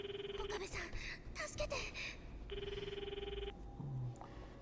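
A telephone rings in the Steins;Gate 0 visual novel, two electronic ring bursts sounding steadily over a low ambient bed, with brief voiced sounds and other noises in between.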